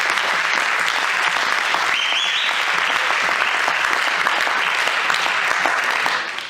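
Church congregation breaking into sustained applause and cheering, a dense, even wash of clapping that holds loud throughout and tapers off at the end.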